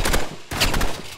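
Rapid bursts of shotgun fire in a video game, loud and dense, two clusters of blasts split by a brief pause.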